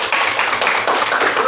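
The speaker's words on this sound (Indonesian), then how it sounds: "Tepuk tangan dulu." A school class clapping their hands together, a dense burst of quick, loud claps from many children in a classroom, lasting over a second.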